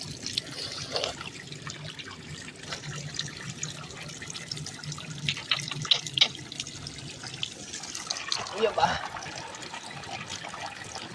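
Water runs and trickles from a motor pump outlet, faint and fairly steady, with a few brief splashes and small knocks along the way.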